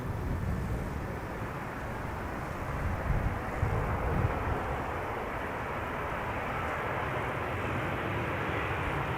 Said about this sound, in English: That third airplane is an Air Baltic A320 arriving from Rigatoni city